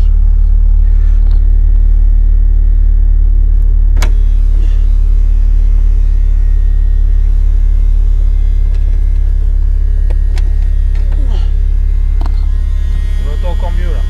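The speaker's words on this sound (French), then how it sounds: "Ça, c'est le bruit d'une pompe qui est en train de canner." A failing fuel pump for E85 fuel in a car's fuel feed module runs with a steady low drone and hum, joined by occasional faint clicks and ticks throughout.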